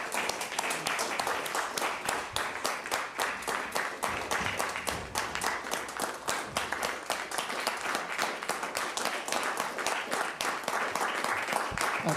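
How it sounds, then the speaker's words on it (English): Sustained applause from an audience at a city board of commissioners meeting, a standing ovation for a man, dense steady clapping throughout at even loudness with some faint voices mixed in. "I'd like for us to give Mark a round of applause, a standing ovation"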